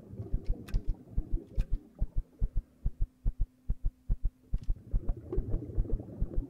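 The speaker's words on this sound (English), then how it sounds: "You hear that heartbeat? That's because my stamina is running out." Steady, thumping heartbeat from a player character whose stamina is running out in Empyrion: Galactic Survival, evenly paced double beats, close and prominent, with a low hum and rumbling ambience swelling around it at start and end.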